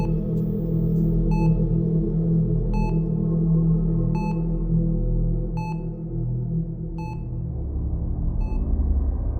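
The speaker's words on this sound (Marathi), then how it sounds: "त्या वॉर्डमधून मशीनचे बीप ऐकू येतात" A hospital ward machine beeps at night at a steady interval of about one and a half seconds, bright tones sounding over a low, constant hum.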